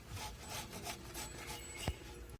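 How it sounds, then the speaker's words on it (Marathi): Fresh wet coconut being grated by hand in a home kitchen, a steady close scraping rasp repeating in quick strokes, with one brief sharper scrape near the end. "तर बघा मस्त असं त्याचं खोबरं किसून घ्यायचं"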